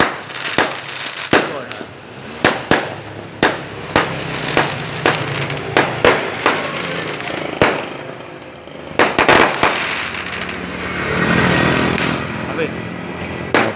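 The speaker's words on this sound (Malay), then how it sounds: "mercun meledak di atas langit" Firecrackers burst overhead on the second night of Hari Raya in Ampang Indah, a long series of sharp irregular bangs ringing out at a distance, with people talking in the background.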